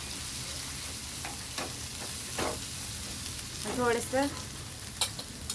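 Turmeric and cumin sizzling in hot oil in a frying pan while stirred for vadapav: a continuous, fairly close frying hiss with scraping spoon strokes, and someone speaks briefly.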